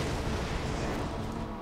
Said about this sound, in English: why aren't these explosions hitting him?